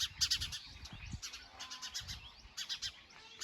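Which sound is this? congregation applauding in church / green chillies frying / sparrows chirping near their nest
sparrows chirping near their nest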